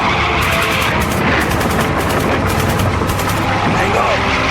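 Suppressive automatic gunfire during a vehicle chase, a loud, dense and unbroken barrage of rapid shots layered over rumbling engine noise.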